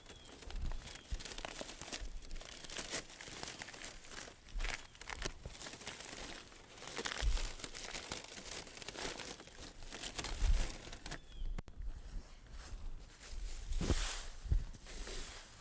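A dsolv compostable paper yard-waste bag folded down at the rim, giving close, steady papery crinkling and crumpling with a few sharper rustles throughout.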